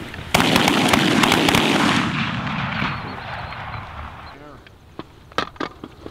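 Shotgun blasts fired rapidly during a Minnesota goose hunt, several loud close shots in a burst followed by a few scattered later shots, with excited voices shouting between them.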